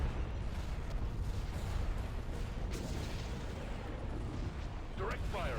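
Starship cannons fire in a Star Wars space battle game, producing continuous rumbling booms and blasts, loud and dense, with radio-style voices talking over the combat.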